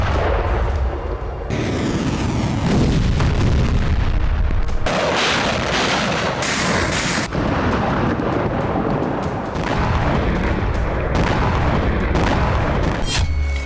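Explosions and artillery strikes in Crimea, around Sevastopol, form a continuous loud, rumbling barrage of booms and blasts, with dense overlapping impacts and no pause.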